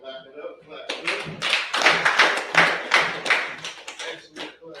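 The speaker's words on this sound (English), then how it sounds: "Clap it up, clap it up." A group claps hands together on cue in a class, a burst of brisk overlapping claps that swells and fades over a few seconds, with talk mixed in.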